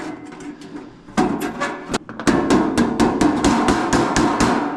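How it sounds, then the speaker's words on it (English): An air hammer rattles loudly against sheet metal ductwork for a 90-degree fitting in rapid, rhythmic bursts, pausing briefly before resuming a steady pounding. "we have an air hammer that we'll use to finish those out"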